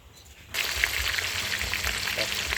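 Freshwater pomfret fish hits hot oil in a pan and bursts into a loud, steady sizzle with crackling pops, close by and continuing without pause.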